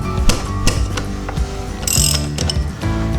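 A ratchet wrench fitted with a 14mm socket clicks in quick repeated bursts, close and loud, as it loosens the front brake calipers on a Honda Africa Twin motorcycle.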